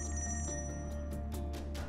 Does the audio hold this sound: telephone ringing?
yes